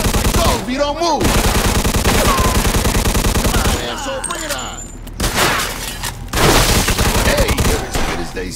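Heavy gunfire in the 1940s crime video game Mafia II: Definitive Edition, with long loud bursts of automatic fire and single shots, brief pauses between volleys, and voices speaking between the bursts.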